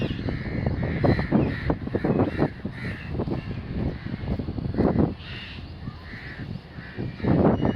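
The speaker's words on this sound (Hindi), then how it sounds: "ये सामने इसमें तोते हैं" Parrots kept in an enclosure squawk and screech in a busy, overlapping chorus of harsh calls, loud and close, continuing for several seconds without talk.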